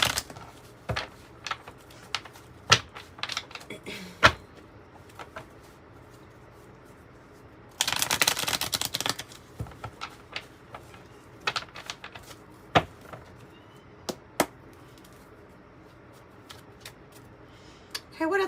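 Oracle cards from a 108-card deck being shuffled, with scattered soft clicks and taps and a brief dense burst of riffling in the middle, all faint and close.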